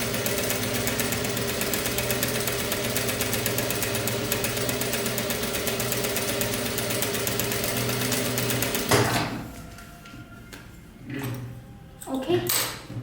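Sewing machine stitching a sleeve in from the shoulder, running in a steady rapid whir for about nine seconds before stopping, followed by quieter handling noises and brief clicks.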